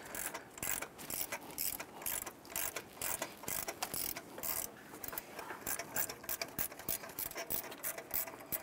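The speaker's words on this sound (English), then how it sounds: "I'm going to switch over to our gear wrench here for clearance purposes. And we'll just continue to spin this bolt out." A gear wrench ratchets a bolt out during water pump replacement on a 2005-2010 Chrysler 300, its fast pawl clicks running in continuous close bursts with brief pauses throughout.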